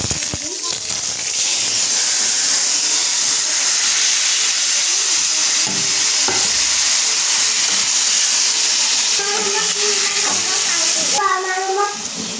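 Five-spice seeds and a few dried red chillies sizzle in hot oil while an Assamese pineapple pickle is cooked, a loud, steady hiss that fills the whole stretch, with a voice talking over it near the end.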